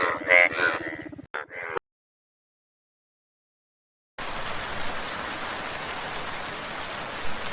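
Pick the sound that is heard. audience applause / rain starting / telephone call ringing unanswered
rain starting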